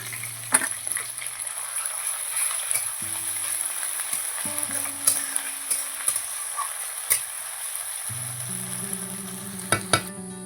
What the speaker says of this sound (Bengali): পেঁয়াজ বাটা দিয়ে দিচ্ছি